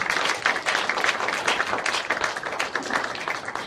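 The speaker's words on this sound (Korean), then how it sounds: "박수 한 번 더 해주신 것도 좋을 것 같아요." Audience applause fills a church celebration service for a denomination leader's inauguration, dense steady clapping from many hands, fairly close and continuous throughout with no pause.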